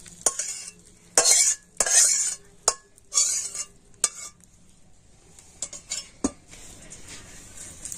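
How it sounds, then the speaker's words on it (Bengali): Spice mixture fried in oil is stirred into a batter for a quick breakfast snack, giving wet scraping strokes and clinks of a utensil against the bowl in bursts, then quieter scattered taps. "আবার আমি কিন্তু এই মশলাটা দিয়ে ব্যাটারটা খুব ভালো করে মিশিয়ে নেব"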